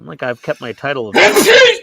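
A sharp, loud sneeze bursts out right after a short stretch of someone talking, a breathy, hissing blast that fills the end of the moment.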